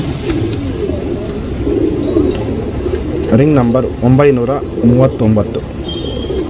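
A female Dhumale tournament pigeon at a loft in Bangalore coos close by in several repeated throaty bursts in the second half, while someone talks over it.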